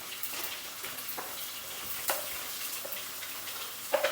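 Shallots, garlic and onion sautéing together in coconut oil in a pan, a steady soft sizzle with a few brief clicks and stirring knocks, no talking.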